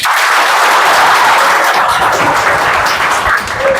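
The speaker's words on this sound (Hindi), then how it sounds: "ये तालियों की गूंज इस दीवारों को फाड़ के निकलनी चाहिए," Loud, dense applause from a room full of students, a continuous roar of clapping sustained throughout, close and heavy with no talking over it.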